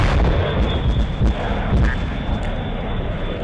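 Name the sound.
fighter jet firing multiple missiles in a video game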